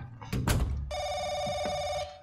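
A telephone in The Crooked Man video game rings with a bright electronic trill lasting about a second, following a short burst of noise.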